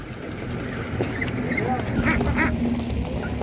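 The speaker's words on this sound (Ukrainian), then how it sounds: "дивіться, яка гарна качка є" Ducks of several breeds at a rural animal market give a few short quacks above a steady low hum of market background, with faint voices nearby.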